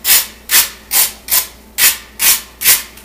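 Seven rough scraping strokes on burnt toast in a steady rhythm, close by, each a dry rasping rub across a hard, crisp surface.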